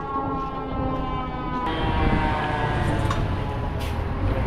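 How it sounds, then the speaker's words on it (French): Siren of fire engines arriving at a hotel fire, a sustained wailing tone holding steady over a constant rumble of traffic and street noise, fairly loud throughout. "Il y a les pompiers qui arrivent, non?"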